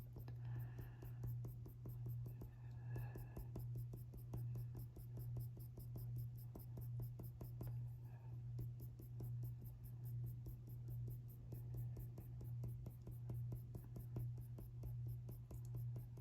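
Colored pencil drawing on drafting film, short strokes laying down leopard fur hairs with a sharp point. The scratching is faint and rapid, with a continuous low hum beneath it throughout.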